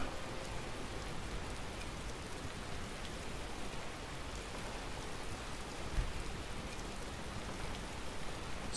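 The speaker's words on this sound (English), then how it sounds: "hopefully it stops raining" Steady rain patters down in the video game Skyrim as a dense, even hiss of drops on surfaces, constant and fairly faint throughout, with no voices.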